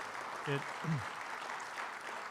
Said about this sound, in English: let's have a round of applause for everyone that ran